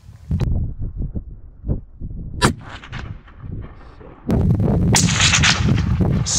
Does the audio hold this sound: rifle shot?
yes